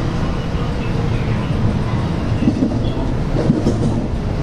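A JR 321 series commuter train running on the Kobe line, a loud steady rumble of wheels on rail heard close from the cab, with rhythmic clickety-clack joint hits in the second half.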